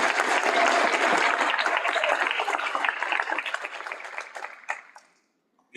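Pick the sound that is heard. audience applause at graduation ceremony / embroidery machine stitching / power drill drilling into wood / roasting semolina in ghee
audience applause at graduation ceremony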